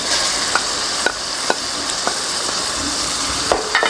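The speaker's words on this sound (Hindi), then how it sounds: "अब हम इसमें दाल डालेंगे आखिर में" Boiled lentils going into a sizzling pan, a constant bright hiss of frying with light periodic stirring clicks throughout.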